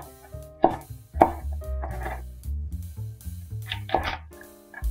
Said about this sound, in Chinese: 下面切菜，把彩椒都切成三角块